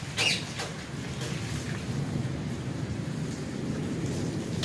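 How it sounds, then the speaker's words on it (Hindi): Heavy rain pours steadily onto a mesh screen in Sargodha, a dense, even wash of patter and hiss that holds near and loud throughout with no voices. "बारिश तेज़ हो गई है जी, ये देखें कैसे पानी जाली के ऊपर है।"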